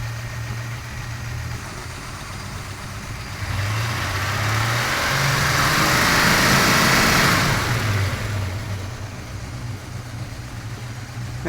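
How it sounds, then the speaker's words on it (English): A car engine idles during an HEI ignition control module test, then revs up to a louder, higher drone in the middle of the stretch before easing back toward idle. The engine is close and steady throughout, with no talking. "So now, let's up the RPM,"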